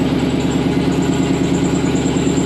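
A Cummins diesel swapped into a car idles after starting, a loud, steady low rumble with a constant mechanical drone and faint high whine, close by with no talk over it.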